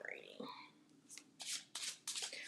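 Oracle cards are shuffled by hand in quick, crisp riffling bursts that repeat several times close up, with faint soft handling sounds in between and no talk.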